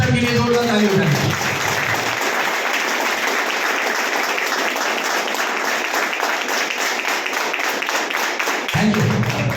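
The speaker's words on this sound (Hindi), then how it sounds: "हमारी फाइटर सक्सेस सिस्टम के लिए जोरदार ताली बजाएं" Loud, sustained applause from an audience at an education-system presentation, dense clapping that fills the whole stretch, with a voice heard briefly at the start and again at the end.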